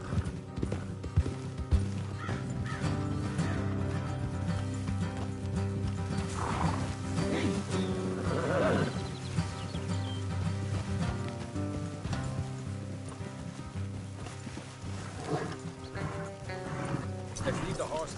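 Horse hooves clop steadily with occasional whinnies in Red Dead Redemption 2, layered under a continuous bed of game music and ambient noise, with a voice talking at times.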